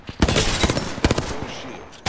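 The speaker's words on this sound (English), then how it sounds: "Smart bullets hit our foe." Smart bullets fired by Ballistic in the Apex Legends video game strike an enemy as a quick cluster of sharp cracks and impacts over about two seconds, loud and close, with a faint voice underneath.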